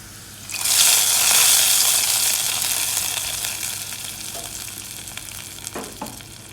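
Sudden loud sizzle as a hot tempering of fried shallots hits a curry-leaf curry, hissing strongly at first and then gradually dying down, with a few light clinks near the end.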